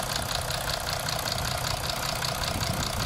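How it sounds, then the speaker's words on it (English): A Mercedes OM642 diesel engine idles steadily during an injector leak-off test, a close, constant rattling diesel clatter with an even rapid knock and no talking. "Engine running."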